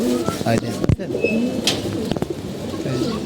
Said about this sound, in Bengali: এই যে কবুতর উড়াল দিছে